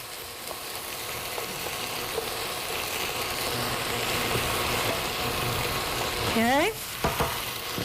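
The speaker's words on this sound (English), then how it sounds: "Stir your peppers and onions." Peppers and onions stirred in a hot pan, a steady close sizzle and frying hiss with scraping utensil strokes, and a brief spoken word near the end.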